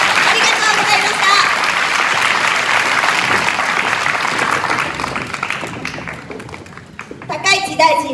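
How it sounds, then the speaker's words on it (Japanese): An audience at a political town-hall gathering gives a loud, steady round of applause that fades out near the end, with a voice speaking over the final moments. "皆様、高市の盛大な拍手でお送りください"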